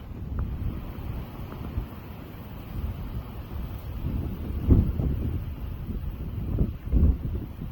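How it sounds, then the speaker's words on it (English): Blustery wind buffets the microphone outdoors, with low rumbling gusts that surge louder near the end. "And severe wind gusts."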